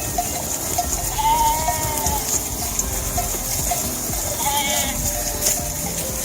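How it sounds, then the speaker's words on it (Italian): A local shepherd's flock of sheep on a mountain trail near Mangart, bleating repeatedly in wavering calls over a steady background rush like running water. "incrociamo un pastore locale col suo gregge."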